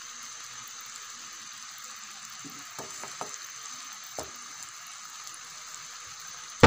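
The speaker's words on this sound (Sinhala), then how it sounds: "පොල් ටික ටික පැණි වලට දාගමු. ඊට පස්සේ හොඳින් කලවම් කරගමු." Grated coconut goes into hot sugar syrup for Sri Lankan lawariya, with a quiet, steady bubbling sizzle and a few soft scraping stirs against the pan.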